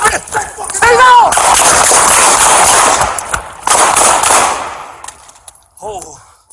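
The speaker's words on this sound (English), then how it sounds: "Shots fired by police." Loud, sharp gunshots ring out in a police shootout with a suspect, several cracking reports in quick succession, with shouting voices nearby and the shots fading into quieter echoes and speech toward the end.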